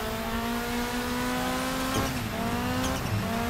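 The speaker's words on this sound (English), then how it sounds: "All right, I feel good in this classic car." A classic car races in the DiRT 5 video game. Its engine gives a steady, loud drone with tire squeal over the top. The sound runs unbroken with no talking.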